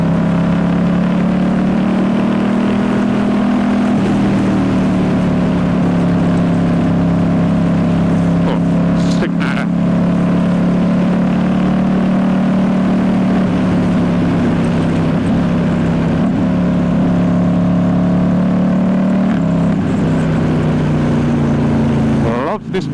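A 2019 Ducati Diavel S with a full exhaust system drones under load while riding, its engine note steady and loud with slow rises and dips in pitch, plus wind noise and a brief clunk partway through.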